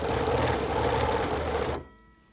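A sewing machine stitches fabric pieces for a stitch-and-flip table runner along a straight edge, a steady fast mechanical whir running close and loud for almost two seconds before stopping abruptly.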